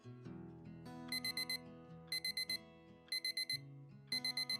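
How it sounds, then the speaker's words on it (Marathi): An alarm clock on a bedside table rings in repeated bursts of four quick, bright beeps. The bursts come about once a second and sit faintly over soft background music. "तितक्यात त्यांच्या जवळच्या टेबलवर असलेला अलार्म वाजला"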